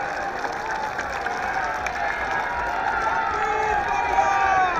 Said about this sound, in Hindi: जरा जोरदार तालियों से मुख्यमंत्री भूपेश बघेल जी का स्वागत करें